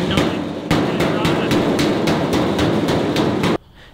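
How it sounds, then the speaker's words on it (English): Rapid metallic hammer blows ring out in a steady rhythm, roughly a dozen strikes close by, then stop abruptly. "We're gonna take the hammer"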